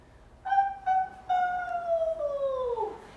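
A person imitates a whale with a long, wavering tonal moan that starts in two short bursts and then glides slowly downward, alone and fairly clear during a children's yoga story session.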